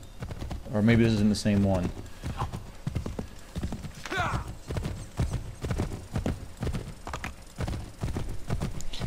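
Horse hooves clop at a steady trotting rhythm as the animal is ridden through a village in Assassin's Creed III, with a whinny near the start and someone talking over the hoofbeats.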